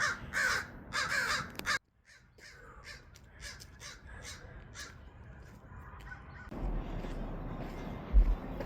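Crows caw in a series of harsh calls, loud at first and then fainter and more scattered, over a low rumbling background.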